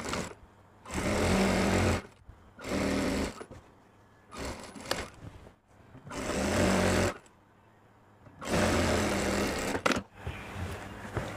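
A sewing machine stitching the side seam of a kurti, running in four or five separate bursts of about a second each with short quiet pauses between, heard close and alone.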